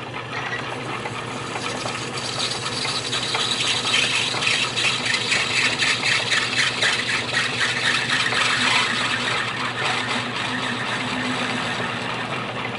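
A metal-forming machine makes a final pass with a 1-inch radius tool along a metal edge, a steady mechanical drone and whir that swells slightly in the middle and runs continuously for about thirteen seconds, with no speech.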